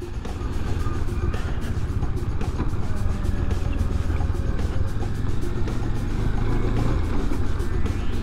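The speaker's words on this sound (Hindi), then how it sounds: "अभी फर्स्ट गियर में ही हम चल रहे हैं।" A motorcycle ridden slowly in first gear up the rough Zoji La mountain pass road, a steady low engine drone with continuous rumble, close and fairly loud throughout.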